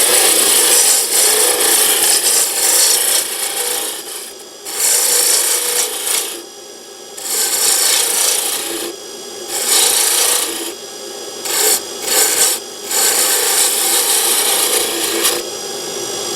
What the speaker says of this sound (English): For that we use the small roughing out gouge.